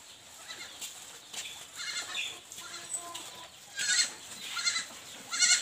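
Beetal goat kid at a goat farm in Assam bleats faintly among clucking chickens and farmyard background, with several short calls spaced irregularly.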